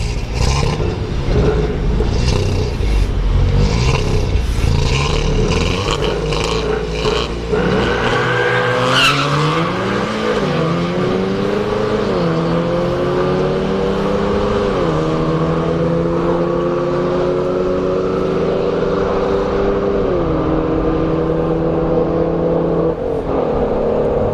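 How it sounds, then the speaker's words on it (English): A Volkswagen Golf R with an upgraded turbo at a drag strip roars loudly, with tire squeal and a rising engine pitch as it launches and pulls away. It stays close and constant throughout, with no talk. "That Golf R. So he's definitely got an upgraded turbo."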